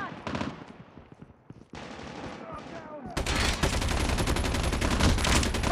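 Gunfire in Call of Duty Mobile, scattered shots at first, then sustained loud automatic fire in rapid bursts over game voice lines.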